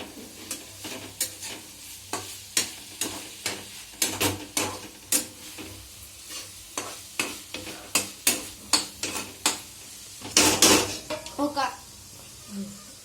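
Tomato pasta sauce bubbles in a pan while a utensil stirs through it, making loud, close scraping strokes in a steady rhythm of about twenty beats, ending in a brief busier clatter.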